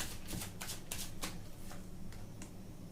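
Tarot cards are shuffled and drawn by hand, a close run of quick riffling flutters and soft card slaps over about three seconds, quiet and with no voice.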